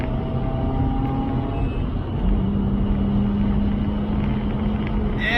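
A 231bhp Mazda RX-8 engine drones loudly from inside the car under hard acceleration, its pitch dropping and settling briefly partway through at a gear change, then pulling steadily again.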